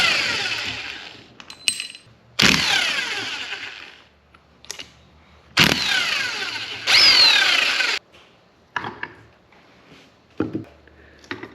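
Ratcheting wrench work loosening bearing cap bolts on an axle during a Spartan locker install, heard as several separate bursts of clicking and metallic scraping with pauses between them, close and fairly loud.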